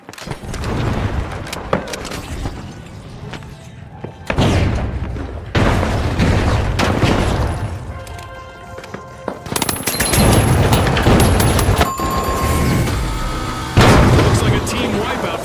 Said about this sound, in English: Throwing pyro grenade!